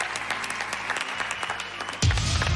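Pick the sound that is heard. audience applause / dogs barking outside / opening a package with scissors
audience applause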